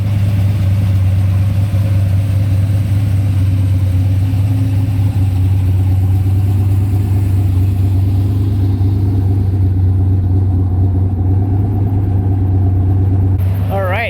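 A turbocharged Cadillac Escalade truck's engine drones steadily and loudly from inside the cab while driving, a constant low hum with a faint rise near the end.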